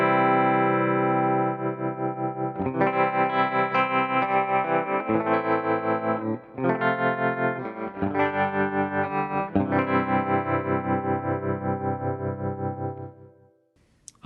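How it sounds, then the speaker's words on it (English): Electric guitar chords run through a VCA tremolo block on a Fractal FM3/FM9/Axe-FX III country rig, set deep and fast, so the sustained, lightly driven strums pulse steadily in volume, loud and close with no talking. "we have our VCA Trem."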